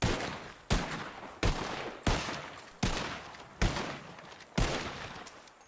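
Seven evenly spaced, loud gunshots crack out in a Red Dead roleplay game, each blast decaying briefly before the next, with no talk over them.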